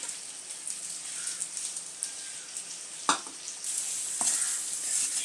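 Hair oil ingredients, including neem bark, are stirred in a pot with a steady sizzling hiss, broken by a few sharp scrapes and clinks.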